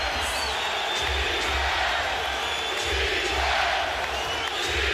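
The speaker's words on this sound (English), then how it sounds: "Crowd on its feet chanting defense." Basketball arena crowd on its feet during a Nuggets–Lakers game, a dense, loud, steady roar with rhythmic low chanting pulses of defense recurring through the whole stretch, no clear speech over it.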